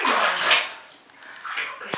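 Water splashing over Molly, a Maine Coon cat, during a bath: two bursts of close, bright splashing, the first longer and louder, a short lull, then a second burst ending in a sharp knock.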